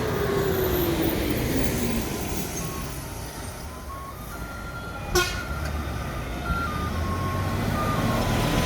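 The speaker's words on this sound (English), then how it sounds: "Cars and trucks are just so loud. The engines are really old and really just like this guttural engine noise all the time." Loud, guttural road traffic in Sri Lanka with old truck engines rumbling steadily nearby, a vehicle passing and a brief horn or beep sounding midway, no talk.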